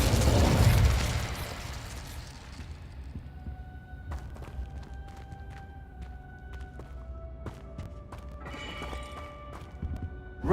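An Incendio fire spell goes off in a wizarding video game: a loud whooshing burst of flame at the start that fades, followed by quieter crackles and chiming clicks.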